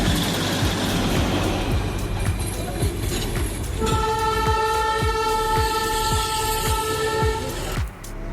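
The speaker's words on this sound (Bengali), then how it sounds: "অবশেষে একটা টয় ট্রেনের দেখা পেলাম।" A Darjeeling toy train chugs past with a steady, rhythmic clatter of wheels on rails, then sounds a sustained, loud whistle-like horn for several seconds near the end.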